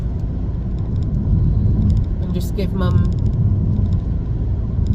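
Steady low road rumble inside a moving car on a wet, rainy road, continuous and close, with someone speaking briefly over it.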